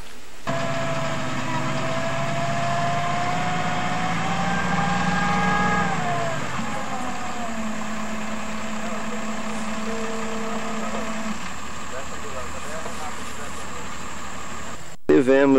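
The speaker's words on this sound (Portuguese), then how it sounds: "Vemos o caminhão da prefeitura, o trator, executando o trabalho de raspagem." A municipal truck and a tractor scrape and grade a dirt road, their engines droning steadily at mid distance with a continuous low rumble throughout, shifting pitch partway through.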